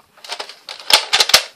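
A toy gun fires a rapid series of sharp, dry plastic clicks and snaps, several bursts close together and loudest toward the end, heard alone with no talking.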